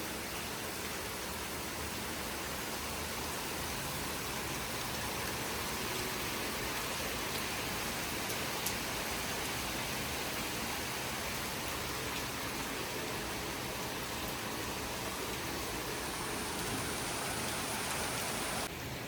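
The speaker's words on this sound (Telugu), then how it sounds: "చూసినారా ఎట్లా వర్షం పడుతుంది" Steady, dense rainfall in Rajasthan hisses evenly throughout, a continuous wash of drops on surfaces with no voices.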